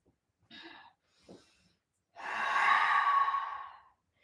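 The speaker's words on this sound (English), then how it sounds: "Breathe in, out and fold." A yoga class breath cue: two short, soft exhales, then a long, loud, airy sigh-like breath out lasting nearly two seconds, heard alone with no talk.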